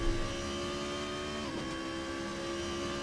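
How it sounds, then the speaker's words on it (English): A BMW Z4 GT3 race car engine from the Assetto Corsa racing game at the Nürburgring GP, holding a steady, sustained drone at fairly constant revs, with a brief pitch dip near the middle, loud and continuous throughout. "And these beautiful sounds of the Z4 as provided by the sound pack mentioned earlier"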